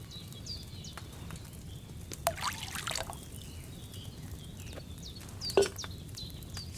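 Wine poured into a cauldron in the Kingdom Come: Deliverance 2 video game: a short liquid pour and trickle, then a brief second splash, faint against quiet background ambience.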